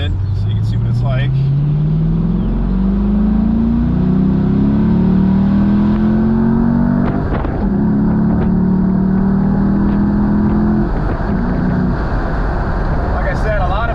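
A 2011 Chevrolet Camaro SS with an LS3 V8 accelerates on the road, its engine rising loud and steady through several gear pulls with short dips between shifts, heard continuously from inside or close by.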